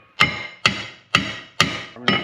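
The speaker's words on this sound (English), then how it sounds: "Probably not the best way to use the hammer, but whatever." A hammer strikes a brake part on a 2003 Subaru five times in a steady rhythm, each a sharp ringing metallic clank that decays quickly, close and loud with no speech.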